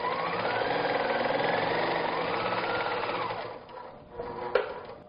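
A quilting machine stitching fabric mounted on a Q-Zone hoop frame, a steady, close, buzzing motor hum with rapid needle chatter that slows and stops near the end, followed by a sharp click.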